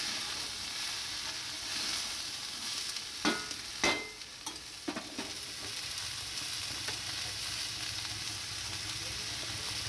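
Food frying in a pan as turmeric and salt are stirred in, a soft continuous sizzle broken by a few sharp spoon-and-pan scrapes and knocks near the middle, close and alone.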